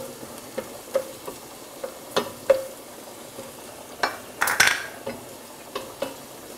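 Garlic frying in a pan with onions, a soft sizzle beneath repeated scraping stirs and taps of a utensil against the pan, with a brief louder rattle midway.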